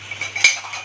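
Dishes and cutlery being taken out for breakfast in a home kitchen: light metallic clinks and scrapes with one sharper clatter, close and brief over a low hum.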